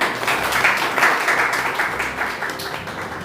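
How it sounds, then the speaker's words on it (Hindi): Audience applause for the guardians at a school prize distribution ceremony, a short burst of dense clapping that stays fairly loud and even throughout. "एक बार हमारे गार्जियंस के लिए आप लोग ताली बजाएं।"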